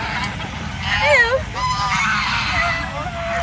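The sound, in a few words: geese honking at a boating lake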